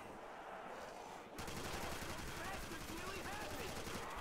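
Rapid gunfire from a weapon in the Custom Zombies mode of a Call of Duty game, bursting in steadily from about 1.4 seconds on and continuing loud and dense to the end over game noise.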